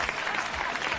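Studio audience applauding on a France 2 television game show, a short burst of dense, even clapping filling the whole moment.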